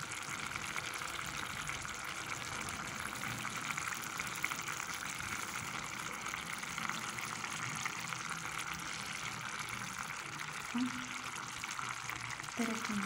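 Homemade olives dropped into a sizzling vegetable tagine give a steady, soft frying crackle with faint stirring and clinks, heard up close and quietly throughout.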